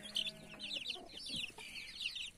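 A backyard hen in a coop clucks in quick, rhythmic bursts, loud and close, with no talk over it.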